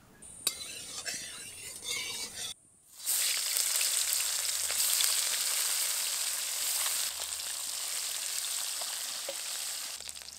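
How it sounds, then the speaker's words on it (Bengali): Parshe fish coated in salt and turmeric fry in mustard oil in a wok: a light crackle, a brief drop to near silence, then a loud, continuous close sizzle with occasional soft clinks. "কড়াইতে পরিমাণ মতো সরষের তেল দিয়ে মাছগুলো ভেজে নেব।"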